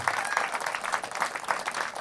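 Steady crowd applause at an intimate radio-station concert following a performance, dense continuous clapping at moderate level with no voices.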